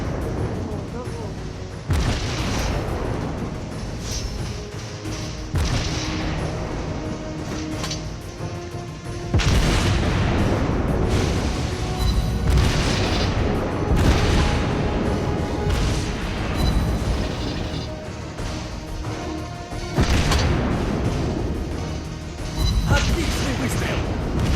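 Heavy naval guns boom repeatedly in a warship battle video game, loud blasts every few seconds over continuous rumbling battle noise, with players talking throughout.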